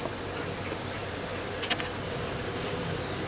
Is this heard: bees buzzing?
yes